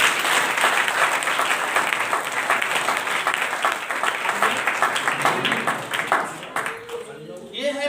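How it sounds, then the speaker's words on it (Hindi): Applause from a congregation at a Friday church meeting, dense loud clapping that carries on for several seconds and then thins out near the end as a voice begins speaking. "ताली बजाएं।"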